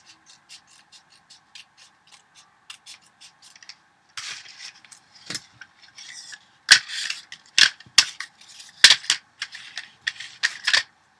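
Scissors snip through a paper strip during a Minnie-themed scrapbooking craft, a run of short crisp clicks that grows into louder, denser cutting strokes, close up with no voices.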